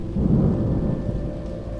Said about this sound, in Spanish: En un momento se soltó la lluvia sobre el camposanto